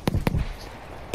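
Grenades explode in a Battlefield game: two sharp, close blasts in quick succession, then a third a second later, loud and punchy with brief rumbling tails.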